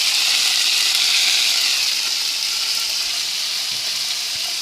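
Chorizo sautéing in a pan, a loud continuous sizzle with a hissing, steady texture close by, faint clinks near the end, no voices.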